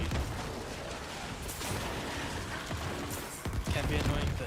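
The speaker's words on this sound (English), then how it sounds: "This is just constant low bombardment explosions." Constant low bombardment explosions in a video game, a dense continuous rumble of blasts and booms with bursts near the end.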